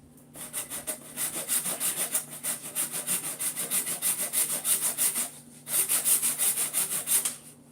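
A hand saw cuts wood for a guitar build, loud close rhythmic back-and-forth strokes in a steady run, briefly pausing before the strokes resume.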